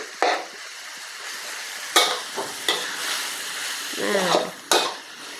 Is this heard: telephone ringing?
no